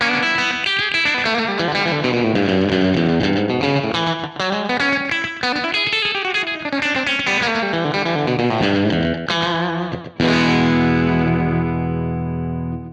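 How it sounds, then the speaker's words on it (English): An electric guitar plays a running melodic line through an Echoplex preamp pedal, a short, quick slapback echo doubling each note, ending on a ringing sustained chord. "So just that slapback sound."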